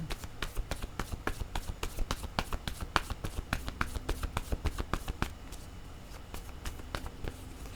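Playing cards shuffled over and over for a tarot-style reading, a steady run of crisp riffling snaps and flutters close by, with no talking.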